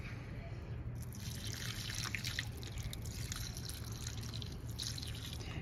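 Water poured from a basin among potted succulents trickles and drips steadily and close by, a continuous soft splashing with no speech.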